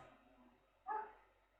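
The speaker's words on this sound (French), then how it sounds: "Si vous entendez aboyer, c'est normal." A dog barks once, a single short yelp from a little way off, rising briefly out of a quiet room.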